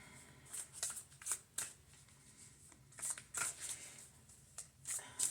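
Tarot cards riffled and shuffled in a run of soft, papery bursts, each a quick crisp flutter, close and fairly quiet with short pauses between, no voices.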